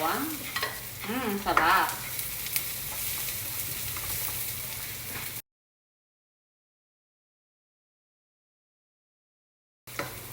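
A large amount of garlic frying in a pan for low-carb squid adobo with pork shoulder, a continuous sizzle with stirring, a voice speaking briefly over it early on, then a long silent gap.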